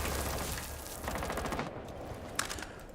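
Rapid automatic gunfire in a Rainbow Six match rattles in dense bursts through a loud, busy game mix, with one sharp crack standing out near the end.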